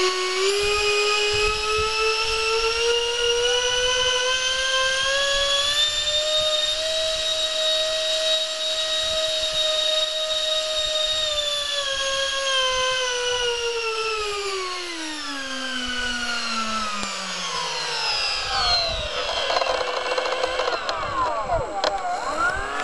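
Twin 70mm electric ducted fans on a model A-10 jet scream in a loud, sustained high whine at full throttle, holding steady, then dropping in pitch as power eases and spooling back up.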